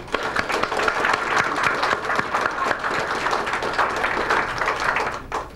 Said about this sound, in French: une bonne main d'applaudissement à tous ceux qui ont travaillé très fort sur ce projet